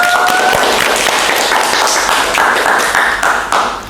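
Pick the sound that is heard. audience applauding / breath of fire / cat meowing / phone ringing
audience applauding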